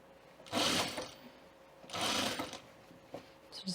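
A home sewing machine stitching a quarter-inch seam around a button-up shirt runs in two bursts of rapid whirring, with a brief stitch or two at the end, close and alone.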